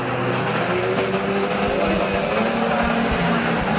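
Race cars roaring around the oval at Mildenhall Stadium, a loud, continuous engine din with shifting pitch and rumble as the pack passes, likely with a commentator's voice underneath.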